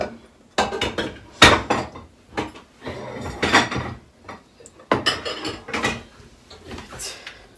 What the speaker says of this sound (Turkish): Şöyle tenceremizi çıkaralım.